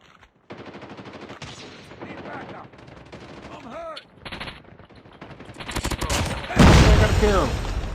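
Gunfire in a mobile shooter video game, steady bursts of rapid automatic shots that grow louder toward the end, with a heavy close blast near the finish and a voice talking over parts of it.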